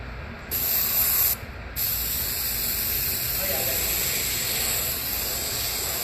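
An airbrush sprays body paint onto a person's legs and feet in a long, loud, steady hiss that cuts out briefly twice near the start before running on continuously, with no talking.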